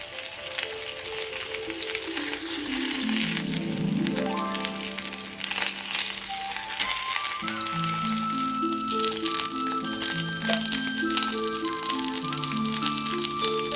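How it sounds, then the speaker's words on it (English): Salmon fillets frying skin side down in a pan, a steady close sizzle and crackle heard under a melodic musical backing with sustained tones. "place the salmon skin side down and cook for about 4 to 5 minutes, allowing the skin to become golden and crispy"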